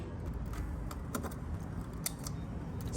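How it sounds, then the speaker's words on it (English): Car keys jangle in light, irregular metallic clinks and rattles at close range, faint against a low steady background rumble. "First I thought someone was turning a corner, but it's literally my car keys."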